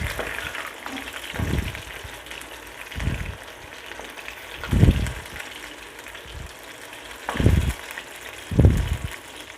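Chicken pakoda deep-fries in hot oil with a continuous bubbling hiss, swelling in several louder surges as pieces are moved around.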